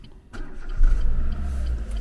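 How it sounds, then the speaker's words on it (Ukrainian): A Renault Megane 2 engine starting with a newly programmed key card: a brief starter crank followed by the engine catching and settling into a steady, close idle. "Так, наша новенька карта запустила двигунчик."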